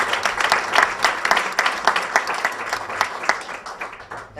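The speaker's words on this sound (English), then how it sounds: "you don't have to clap after everyone" Scattered audience clapping at a campaign endorsement event, individual claps clearly separated into an uneven patter that swells and fades, moderately loud and close.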